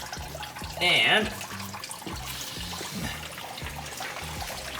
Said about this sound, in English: You can hear it draining out of the radiator.